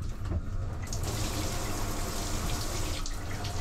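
A shower runs aboard a boat, hot water pouring in a steady, loud, dense hiss with no break.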